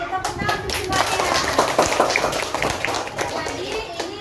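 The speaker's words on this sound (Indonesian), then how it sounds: "Tepuk tangan untuk semuanya." Schoolchildren in a classroom applaud together, a steady patter of many hands clapping at moderate distance, with a few voices mixed in.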